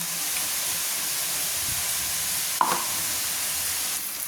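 Onions fry in a hot pan, sizzling steadily with a constant hiss, broken by a brief clink of a utensil partway through.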